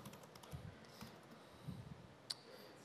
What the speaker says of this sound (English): oh no, I have to type this by hand.